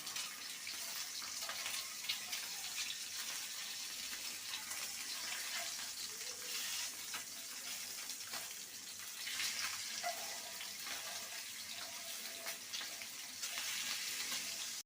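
Four eggs fry in oil in a pan, giving a soft, steady hiss and crackle that stays faint and even throughout.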